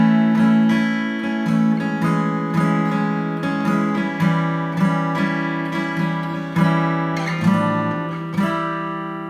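Guitar part from a song, a walk down and walk up played as picked notes and strummed chords in a steady rhythm, fairly soft and close, with no voices.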